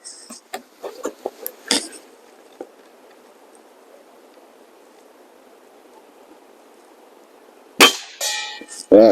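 A RWS Diana Model 34 air rifle fires, a sharp spring-piston crack with metallic ring near the end, preceded by scattered clicks and clunks of handling and a long quiet stretch.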